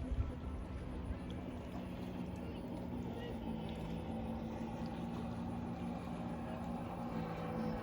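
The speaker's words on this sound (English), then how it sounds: "Jet skis, look at that." Jet skis pass on the water on a sunny day near a campsite, a steady, fairly distant engine drone that holds throughout over open-air ambience.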